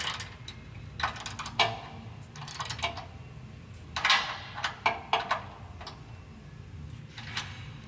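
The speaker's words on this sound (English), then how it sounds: "So I tighten a little bit, like one bolt at a time, and tighten the other side a little bit." Ratchet wrench tightening the bolts of an LoD Offroad Destroyer Series rear bumper, heard as scattered close clicking and ticking strokes in short irregular runs over a steady low background hum.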